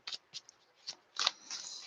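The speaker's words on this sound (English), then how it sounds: "While I'm shuffling" Tarot cards being shuffled by hand, a few quick riffling bursts and soft flutters close up, with a longer sliding rustle at the end and no talking.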